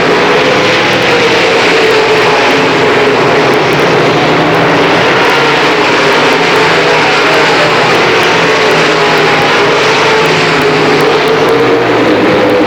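Late model race cars roar together through a heat race, a dense, steady wall of engine noise from the pack circling the track, loud and continuous for the whole stretch with no voices.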